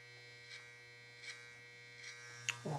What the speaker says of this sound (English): We'll use a little clipper over comb if we have to around the outline here.